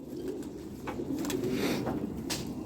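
Rampuri pigeons coo in soft, repeated throaty calls close by, over a steady low background murmur, with no voices.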